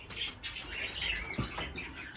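Pet Gouldian finches and canaries chirp in short, bright bursts, a dense overlapping twitter of small songbirds close by with a faint low rumble underneath.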